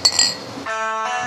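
Glass beer steins clink together in a toast over Belgian wit beer, two or three bright close taps followed by a sustained ringing tone.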